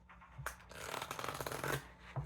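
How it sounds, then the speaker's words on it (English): Tarot cards riffled and shuffled up close, a dense rapid flutter of paper snapping together for about two seconds, with soft taps at the start and end. "Do one more shuffle."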